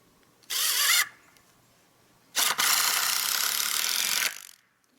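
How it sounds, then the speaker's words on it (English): A power drill drives a screw into wood while a fort is being built, with a short burst of whirring ratchet-like grinding followed by a longer continuous run of close, loud driving. "I'm just going to put one screw in."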